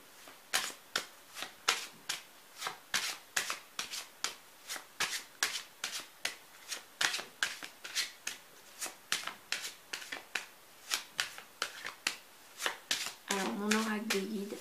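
Oracle cards being shuffled by hand, a quick series of crisp riffling bursts repeating in a regular rhythm, close and clear, with a voice starting to speak near the end.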